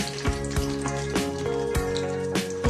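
Cumin seeds and peanuts sizzle in hot oil in a pan for a spicy fasting potato dish, with a steady frying hiss broken by sharp crackles and pops at irregular intervals, close and fairly quiet.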